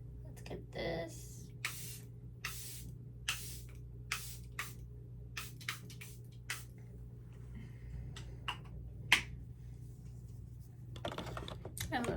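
Charlotte Tilbury setting spray hisses in a series of short, sharp spritzes onto a face, spaced out over several seconds with a few quiet gaps between bursts.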